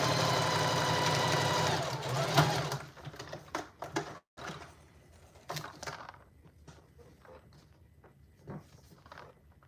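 A sewing machine quilts a fabric book sleeve, running in a fast continuous whir for about three seconds, then stopping and giving short bursts of stitching and clicks with pauses between.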